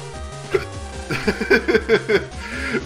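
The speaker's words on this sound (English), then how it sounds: "Inopportune hiccups." A person's hiccups in a short, uneven run of sharp voiced gulps, heard close up with a few small laughs mixed in.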